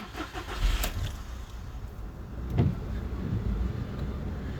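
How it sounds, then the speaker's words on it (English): A silver 2011 Volkswagen Polo Match 1.4 petrol hatchback starting up: a brief starter crank and catch, then the engine settling into a steady idle, heard close from inside the car. "Just start the car so you can see the mileage."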